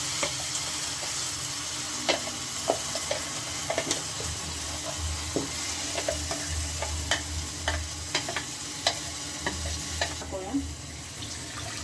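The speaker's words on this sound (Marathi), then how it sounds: "मस्त छान तडका झाला" Spices and coconut paste sizzle steadily in hot oil at moderate volume, broken by scattered crackles and pops and the scrape of stirring; no talking.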